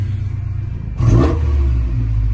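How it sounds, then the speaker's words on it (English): A car engine with a newly installed MegaSquirt ECU idles with a low rumble, then revs up briefly and sags back down, almost stalling, sounding rough and uneven, close and fairly loud. "It revs, but it almost dies."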